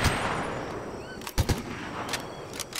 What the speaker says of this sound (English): Shooting the tree.